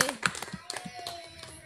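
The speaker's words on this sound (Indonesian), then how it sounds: "Satu tepukan untuk tuan rumah" At a live busking session, a few hands clap for the host, sparse irregular claps and taps close by, with a little talk mixed in.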